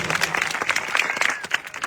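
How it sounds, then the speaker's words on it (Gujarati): Gathered supporters at a political rally clap for jailed farmers; the applause is fairly faint and scattered, with distinct individual claps in an uneven, continuous patter. "એમની માટે એકવાર જોરદાર તાળીઓ થઈ જાય મિત્રો"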